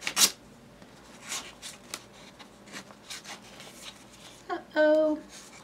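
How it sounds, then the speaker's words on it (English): Scissors snip and rustle through the packaging of a mailed parcel, with scattered crisp cuts and crinkles up close, ending in a louder burst of plastic rustling. "I have my scissors with me so I can get into this without"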